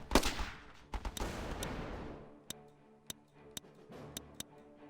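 Gunfire in the video game Battle Islands Commanders: a loud opening burst of shots with a decaying rumble, then a string of sharp, separate single cracks spaced irregularly over a quiet background.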